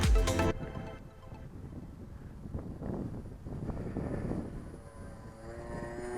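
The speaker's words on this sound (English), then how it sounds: "Is that not a pretty looking aeroplane?" A Dancing Wings Savage Bobber light propeller plane drones past at a distance, a low engine hum rising and fading, with wind buffeting the microphone at the start.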